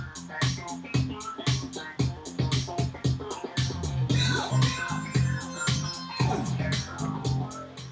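Slow-groove music track at about 114 BPM, with a steady, punchy beat of regular kicks and hits under layered tonal parts, loud and continuous with no talk.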